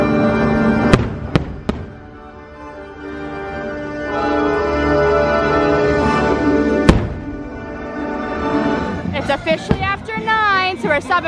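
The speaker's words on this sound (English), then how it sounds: "Fireworks have started." Fireworks bursting during a nighttime display at Magic Kingdom, several sharp booms early and one later amid a steady crackling, rumbling backdrop, with music and people talking nearby.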